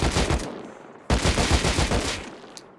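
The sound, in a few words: gunfire from Rust video game, recoil test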